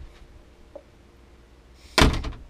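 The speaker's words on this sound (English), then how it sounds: "This is how the door to the head used to close." A quiet stretch with a faint tap, then a boat's head door swings and bangs shut with a solid thump and brief rattle, close by.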